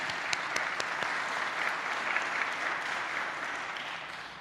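A room full of people at a church lectureship gathering clapping steadily, dense and sustained applause that fades slightly toward the end.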